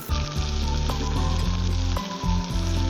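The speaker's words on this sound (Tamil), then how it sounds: "தக்காளி சேர்த்து நல்லா வதக்கி விட்டுக்கலாம்" Tomatoes sauté in a pan for sundakkai kuzhambu, a loud, continuous sizzle with rhythmic scraping stirs and a steady low hum underneath.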